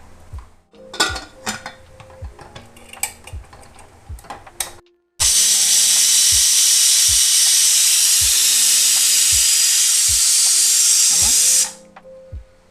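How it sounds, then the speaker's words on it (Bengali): A pot of dal with turmeric and salt cooks for sambar: light clinks and clatter of kitchen utensils give way to a loud, sustained steam hiss lasting several seconds before cutting off. "আমি সাম্বারের জন্য দেখো ডালটা এবার সিদ্ধ করে নেব।"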